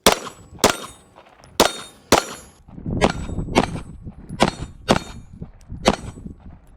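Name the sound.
pistol shots, SAR9 with Strike Industries comp, 115 grain PMC Bronze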